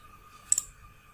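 Computer mouse clicking while a screen recording is made: two quick, faint clicks in close succession over a low steady hum, with no talking.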